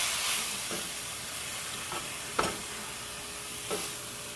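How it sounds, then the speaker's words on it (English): Grease heats in a Lodge cast iron skillet for fried squash, giving a steady sizzle and hiss, with a few soft stirring scrapes and clinks breaking through at intervals. "I've got my grease for my fried squash going over here."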